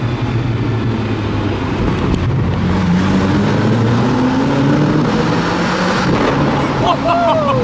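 Zenvo hypercar engine droning loudly inside a tunnel, a sustained rising and falling roar with a few sharp exhaust pops near the end, while people talk over it.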